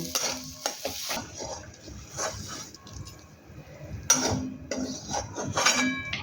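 A utensil stirs and scrapes a thick taro leaf mash in a metal pan, with irregular clanks and soft sizzling, close and fairly loud.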